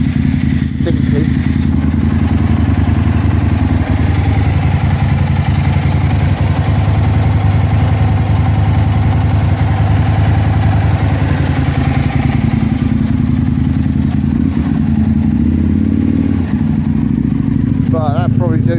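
A 2007 Aprilia Tuono 1000R motorcycle idles steadily after a cold winter start in an open garage, its low engine rumble loud and constant throughout, with some mechanical clatter.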